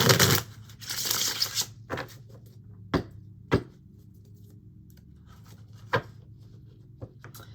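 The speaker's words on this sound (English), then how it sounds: "Let me shuffle really well." Tarot cards being shuffled, a soft rustle early on followed by a few sharp separate card taps and riffles at irregular intervals over a quiet background.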